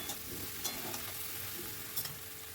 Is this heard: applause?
no